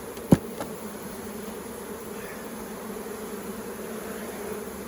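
Honeybees buzz around the hive during a beekeeping inspection, a steady close insect drone with one brief sharp knock near the start.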